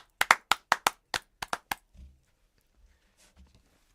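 A single person's hands clap about nine times in a quick, close, slightly uneven run during an online Zoom meeting, then stop, leaving near silence with faint room noise.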